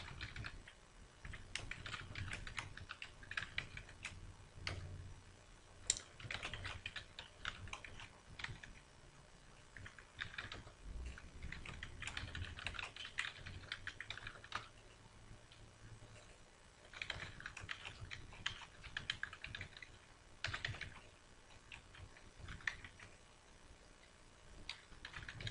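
Someone types on a computer keyboard in quiet, uneven runs of clicks and taps, close and soft, with brief pauses and no speech.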